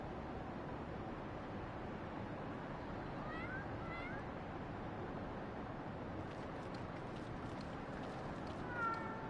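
A cat meows in Final Fantasy XIV, a couple of short faint meows over a dense, steady background of game ambience and noise, with another brief high call near the end.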